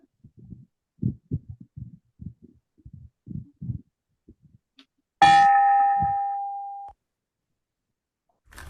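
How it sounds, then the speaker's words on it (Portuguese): Closing bell struck once at a Rotary Club meeting, a clear metallic ding ringing out and fading over about two seconds, after a series of soft knocks and taps, in a quiet room with no talk. "Nosso sino de encerramento."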